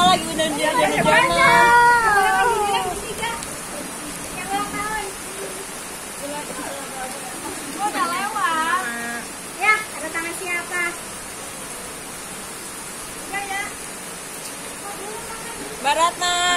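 Rain falling during an outdoor birthday gathering makes a steady broadband hiss beneath lively chatter and children's voices, with the voices loudest at the start.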